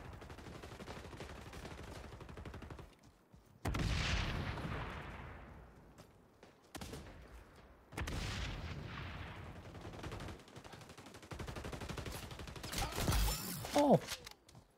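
Grenade blasts in the shooter game XDefiant: two heavy booming explosions with long rumbling decays, set among bursts of gunfire, with a voice speaking briefly in between.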